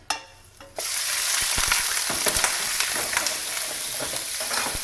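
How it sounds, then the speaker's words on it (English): Pieces of calamari drop into hot oil in a frying pan with a sudden burst, then a loud, steady sizzle crackles in the pan. "add them all into the frying pan"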